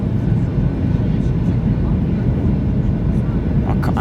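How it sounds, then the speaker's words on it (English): Ryanair Boeing 737-8AS airliner on approach with landing gear out and flaps setting to 15 or 20, a loud steady cabin roar of engines and airflow throughout. "landing gear is out, wheels are out, and flaps are being set to 15 or 20"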